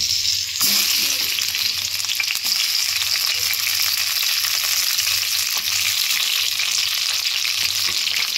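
Loud, close sizzle of onion, tomato and spices frying in hot oil and ghee for a chicken dish, a sharp burst as ingredients hit the pan then a constant crackling hiss with light stirring.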